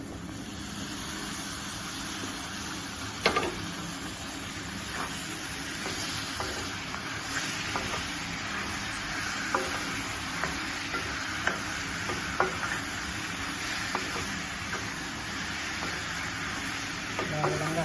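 Cucumber pieces fry with chilli powder and salt in a pan for a Telugu-style cucumber curry, a steady sizzle throughout with repeated spoon scrapes and clinks against the pan, close and moderately loud, no talking.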